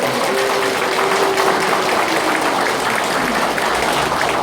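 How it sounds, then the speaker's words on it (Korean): An audience claps steadily and densely at a campaign office opening, a dense wash of applause filling the room from start to finish. "한번 박수 한번 드리겠습니다"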